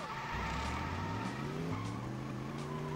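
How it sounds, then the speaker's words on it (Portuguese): A secret car in the Cruis'n USA arcade racing game accelerates, its engine tone climbing steadily in a sustained, moderately loud drone with faint skids. "E vamos acelerar."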